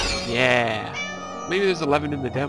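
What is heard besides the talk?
cat meowing in a video game, Clockwork Tales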